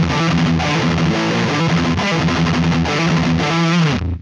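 Electric guitar played through a Neural DSP Mesa Boogie Mark IIC+ amp plugin with a fuzzy, saturated drive, a continuous loud distorted riff of sustained chords that cuts off abruptly at the end.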